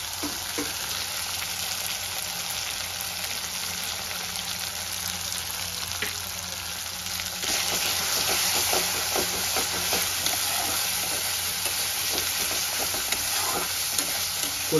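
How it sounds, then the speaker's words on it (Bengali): Onions sizzle steadily in hot oil as turmeric and salt go in, a dense close frying hiss with frequent scraping stirs of a spatula, getting slightly louder partway through; no one speaks. "পেঁয়াজটা দিয়ে আমার ভালো করে কষানো হয়ে গেছে, পেঁয়াজের থেকে তেল ছাড়তে শুরু করেছে।"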